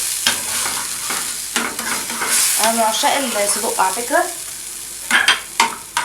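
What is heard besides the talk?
sausage sizzling and frying in a pan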